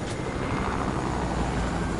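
A helicopter in a multiplayer video game gives a steady, loud rotor and engine roar that runs unbroken through the whole stretch, with no talk over it.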